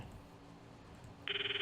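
A phone call being placed in the Steins;Gate visual novel video game: quiet room tone, then an electronic ringing tone starts abruptly and pulses steadily near the end.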